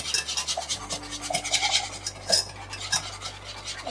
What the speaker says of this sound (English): Just continue to whisk